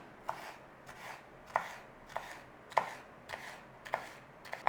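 A knife chops vegetables into fine cubes on a cutting board in a steady series of crisp, evenly spaced strikes, close and alone at a quiet level.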